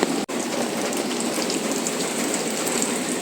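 Steady rain pours on a surface beside a Metro Manila river during a fishing outing, a dense, even hiss with one brief dropout and no voices.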